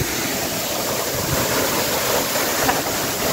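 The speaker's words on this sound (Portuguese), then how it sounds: "Isso aí, cachoeira." A steady roar of cold water from a waterfall pours without a break, loud and broadband with no talking.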